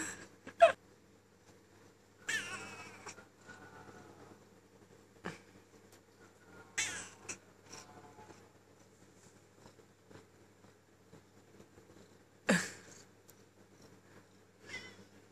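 A cat meows in a few scattered, fairly faint calls beside grilled chicken, with long quiet stretches between the cries.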